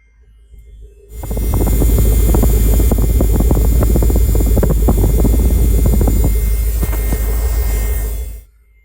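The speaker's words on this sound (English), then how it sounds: "And now we'll move on back to the rear, listening to the exhaust." A deep, steady exhaust rumble rises suddenly and holds loud and close for several seconds, then cuts off.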